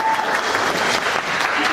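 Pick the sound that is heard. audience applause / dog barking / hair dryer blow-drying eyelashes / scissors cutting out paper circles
audience applause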